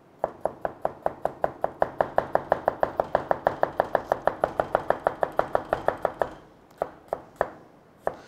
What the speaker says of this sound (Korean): 남성분들은 군대에서 취사병을 하셨다면 이런 칼질은 쉬우실 거예요.